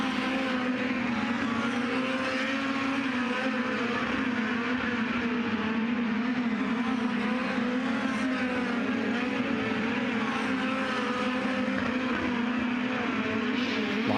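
USAC midget race cars in a hot lap session on the Eldora Speedway dirt track, engines droning steadily and loudly throughout with a sustained high whine and no talk.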